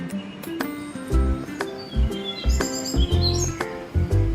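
Birds chirp and call at daybreak around six, with repeated short tweets and trills close by over low rustling thumps, several overlapping songs filling the gap between sharp calls.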